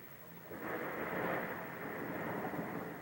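Thunder from a nearby lightning strike in a severe Cambridge, UK thunderstorm: a deep rumble swells after about half a second and rolls on steadily, loud and close, with no voices.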